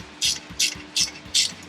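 Torque wrench working on the exhaust clamps of a Moto Guzzi V85TT motorcycle: four evenly spaced bright ratcheting clicks, close and fairly loud, with no talking.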